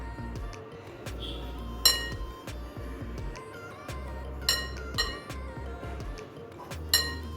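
Semolina and sugar stirred together in a bowl for palm fritters, a spoon scraping with steady rhythmic clinks against the dish, close and moderately loud, with sharper taps now and then.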